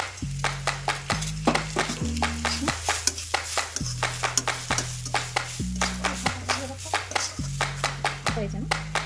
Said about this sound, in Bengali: আমি এবার ডালটা ভেজে নেব এই তেলের সঙ্গে